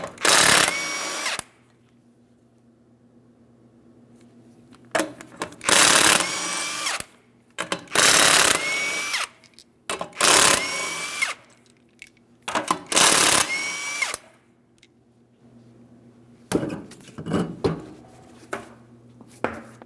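Power tool bursts loosening the five 21mm lug nuts on a rear wheel of a 2003-2008 Toyota Matrix, a string of loud whirring runs of about a second each, separated by short pauses with a low steady hum beneath.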